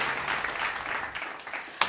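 Applause from a congregation acclaiming the Lord during a French-language church worship service, a steady wash of clapping that swells into a brief sharper burst near the end.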